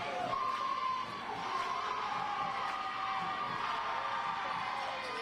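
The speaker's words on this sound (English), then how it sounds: "Huge crowd on hand tonight for this championship Saturday night." A large crowd roars and cheers steadily at a Saturday night high school boys basketball county tournament final in Talladega, a continuous dense wash of voices with whistle-like shouts rising above it.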